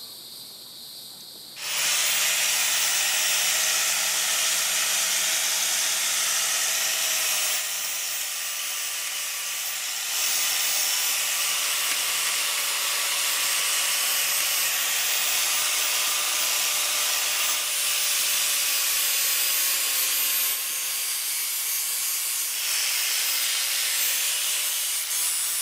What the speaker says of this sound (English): so I'm going to clean that up with the grinder